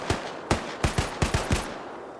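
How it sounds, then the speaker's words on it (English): Suppressive gunfire in an Arma video game match, five or six sharp rifle shots in an irregular rapid sequence, moderately distant with no talk. "Some suppressive fire back here."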